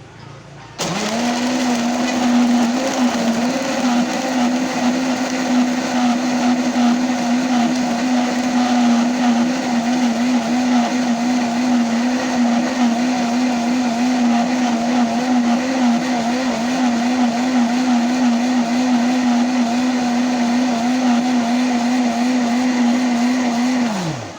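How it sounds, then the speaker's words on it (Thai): An electric blender runs at its highest speed, blending mixed fruits and vegetables, with a steady, loud, high motor whine from start-up until it winds down at the end. "ปรับเครื่องปั่น เป็น เบอร์ที่แรงสุดนะคะ มันจะได้ปั่นละเอียดนะคะ"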